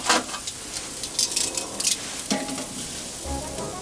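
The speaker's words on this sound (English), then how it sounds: "in case you're hearing that sizzling, that's just the remaining water when I was washing this off" Steady hissing sizzle of leftover washing water spitting on a hot grill, with a few sharper crackles and pops near the start; no one speaks.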